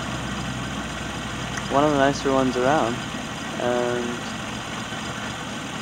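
A 1991 Chevrolet Sprint's G10 three-cylinder engine with a high-lift cam idles with a lumpy lope, a steady low rumble running beneath a voice.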